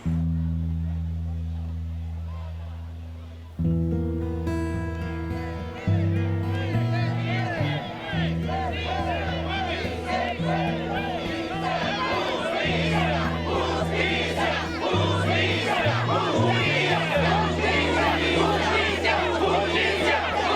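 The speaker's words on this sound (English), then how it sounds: "Outside the Prince William County Government Center, a rally cry." A large rally crowd cheers and chants outside the Prince William County Government Center, a dense, loud roar that swells after a few seconds and holds steady, with steady harmonic music running beneath the voices.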